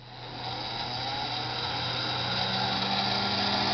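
A steady mechanical whir of the chopper motor and spinning rotator of a 120-volt Mini Thunderbolt siren drones evenly, slowly rising a little in loudness and holding constant.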